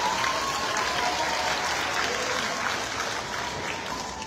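A large crowd claps steadily and continuously at an elementary school promotion ceremony, a dense, even wash of applause that fades only slightly toward the end.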